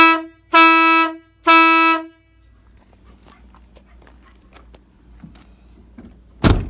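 An air horn fitted to a Dodge sounds two long, loud, steady blasts, followed by quiet engine idle and small clicks, with a short burst at the end.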